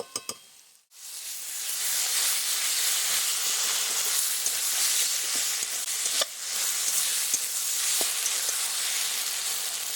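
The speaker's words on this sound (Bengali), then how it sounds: "সমস্ত মশলাটা আমার ভাজা ভাজা হয়ে এসেছে।" Spice paste for a duck curry fries in a pan, starting with a brief scrape and then settling into a constant, close sizzle broken by occasional stirring knocks.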